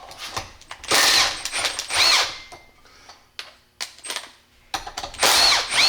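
A power tool removes bolts from an 8V71 blower to take off the spring pack, with several loud bursts of high whine separated by short pauses, clicks and light metallic handling noises.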